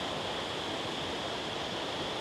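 A waterfall in Dak Lak pours down in a dense, constant broadband rush, loud and unbroken throughout with no voices.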